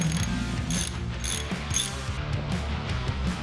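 A ratchet tightens bolts during motorcycle service, its pawl clicking in quick repeated bursts of strokes, close and steady, with no one speaking.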